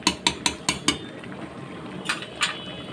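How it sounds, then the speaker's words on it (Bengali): A spoon scraping and knocking against a pot while mutton curry is stirred over a low flame, a quick run of five close metallic clacks, a pause, then two more. "এবার আমি ভালো করে হালকা ফ্লেমে ঢাকা চাপা দিয়ে নেড়ে নেব"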